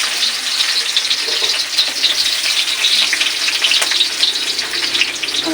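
Garlic and onion fry in hot oil with a bright, crackling sizzle that stays constant and close, with faint stirring scrapes underneath and no voices.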